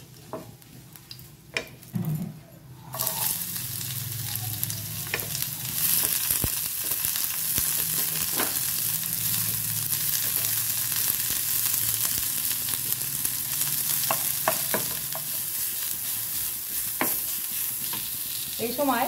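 Sliced onions hitting hot oil tempered with nigella seeds, a quiet start giving way to a loud, continuous sizzle with scattered spatters and occasional stirring clicks, no voices.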